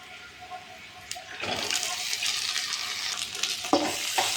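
Cut broad beans tipped into a hot pan and stirred, a soft clatter followed by a steady frying hiss with occasional scrape accents, close and moderately loud, no talking.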